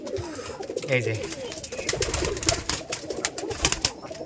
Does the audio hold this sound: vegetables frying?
no